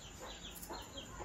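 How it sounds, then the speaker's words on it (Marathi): A hen wanders around inside a house at night, making a few faint, soft clucks close by in a quiet room. "आणि कोंबडी बघा घरात रात्री पण फिरते"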